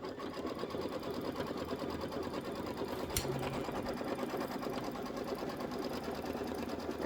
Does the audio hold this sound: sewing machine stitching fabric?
yes